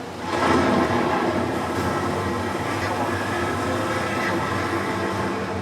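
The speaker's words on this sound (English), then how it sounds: "the lightning strikes and thunderclaps feel like they're right on top of us" Steady broadband rumble of rain and storm noise, a low continuous roar with a faint rolling swell, no voices.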